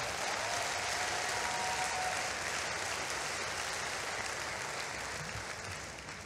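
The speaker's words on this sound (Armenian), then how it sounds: "Ամեն, եկեք ծափարենք տիրոջը։" A church congregation applauding, dense sustained clapping from many hands that fills the room and slowly tapers toward the end.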